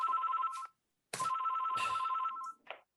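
Telephone ringing with an incoming call: two loud electronic rings separated by a short silence, close and clear with nothing else underneath.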